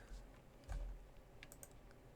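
Computer keyboard in a quiet room, typed on while working in mapping software: a few faint, soft key taps, one slightly heavier press partway through, against low background hiss.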